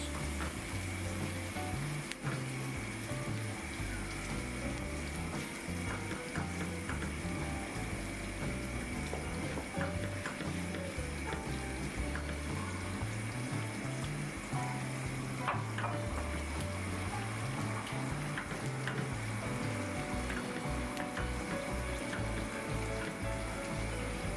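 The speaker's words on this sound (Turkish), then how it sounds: "Suyumuzu da ilave ediyoruz." Water pours into a pot of Amasya-style stuffed grape leaves with barbunya beans, a steady close splashing and bubbling that carries on for the whole stretch, with no one talking.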